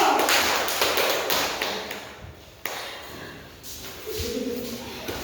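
A classroom of students applauds, a dense patter of hand claps rising and fading over a few seconds, at moderate distance and fairly quiet.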